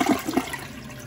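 A toilet in a home with iron-heavy water flushes close by, a brief rushing swirl that fades quickly, with no talk over it.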